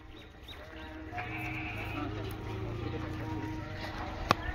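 Goats in a village pen bleat with drawn-out wavering calls, one clear bleat sustained near the middle, over a low background murmur of people talking and a sharp knock near the end.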